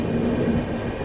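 A 12329 West Bengal Sampark Kranti passenger train runs on rails near Prayagraj Junction, giving a steady, close, loud rumble that holds without a break.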